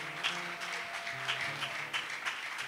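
Congregation at a Sunday church service in a French-speaking setting applauding steadily, a broad wash of clapping over an organ or keyboard playing sustained chords beneath, continuous and moderately loud without a break.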